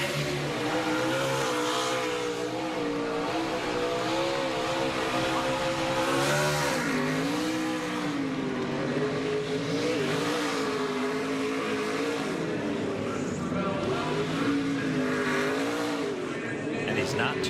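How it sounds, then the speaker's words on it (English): A NASCAR Truck Series race truck at the 2019 CircuitCity.com 250 doing a burnout, its engine roaring and revving continuously at high volume with tire squeal layered in, under a commentator's voice. "That is a very good burnout there."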